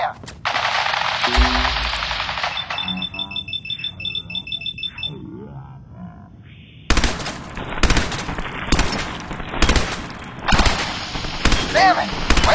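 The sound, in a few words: gunfire from soldiers in the video game Fallout 4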